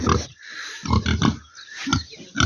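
Pigs, likely young piglets, grunt close by in a farm pen. Several rough, repeated grunts come in short bursts with little pause between them, loud and near.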